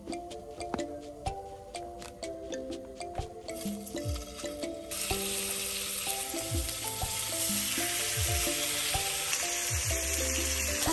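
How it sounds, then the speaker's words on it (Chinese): Steak sizzles in a pan over a camp stove at a campsite, a steady frying hiss that grows louder and continuous partway through, heard beneath background music. "那我会煎牛排"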